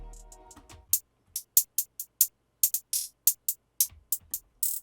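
A rapid UK drill hi-hat roll of crisp, bright ticks in FL Studio that thins into a sparser, softer stuttering pattern as velocity lowers, each hit short and clean, following a brief fading tonal tail.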